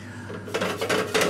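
Sugar poured into a hot saucepan to start a caramel for a tomato tatin, a short soft granular rattle and scrape against the metal pan, close and brief.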